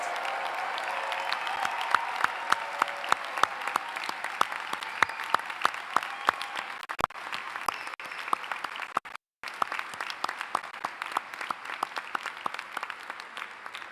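Sustained applause from a commencement crowd honoring Emory University's class of 2025, a dense wash of clapping with sharp individual claps standing out, steady throughout with one brief dropout near the end.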